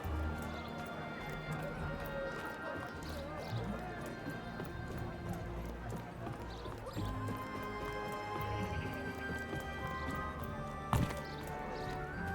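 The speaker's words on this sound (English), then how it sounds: "That looks like a sturdy horse right there." Horse hooves clop steadily in Mount & Blade II Bannerlord, a continuous run of soft thuds over busy game ambience, with one sharp knock near the end.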